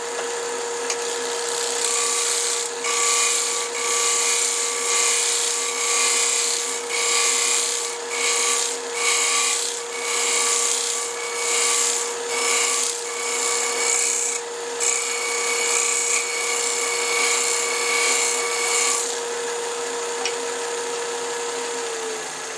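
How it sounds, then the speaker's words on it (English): Wood being shear scraped with a hand tool to shape a wooden bracelet: a run of close, steady rasping strokes in rhythmic bursts, with a short pause near the end and no talking. "I can shear scrape a little bit over here to bring that back."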